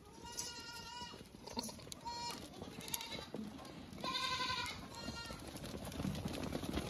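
Osmanabadi goats at a goat-selling farm in Jintur, Parbhani bleat repeatedly, several nasal calls overlapping close by over steady barnyard background noise.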